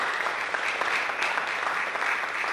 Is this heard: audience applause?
yes